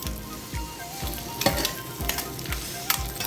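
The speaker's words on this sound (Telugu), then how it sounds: "రెండో వైపు కూడా కొద్దిగా ఫ్రై చేసుకోవాలండి" Eggs fry in masala with turmeric, chili and salt on a hot tawa, giving a continuous sizzle broken by repeated scraping and flipping strokes of a spatula roughly every half second, close and clear with no talking.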